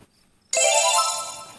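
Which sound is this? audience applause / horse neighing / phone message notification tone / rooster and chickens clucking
phone message notification tone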